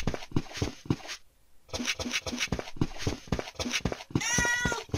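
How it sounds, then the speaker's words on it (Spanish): Cat meowing in an RPG video game, a short meow near the end over a busy, rhythmic game soundtrack. "El gato maulló."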